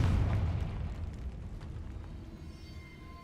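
A Confringo fire spell bursts in the Hogwarts Legacy video game: one loud, booming blast at the start that decays into a rumbling tail over a few seconds.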